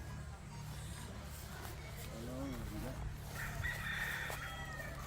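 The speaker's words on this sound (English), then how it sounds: "Chicken." A rooster crows at a house in Siargao, Philippines, a wavering call rising and falling at moderate distance amid low steady background noise, with a second fainter bird call toward the end.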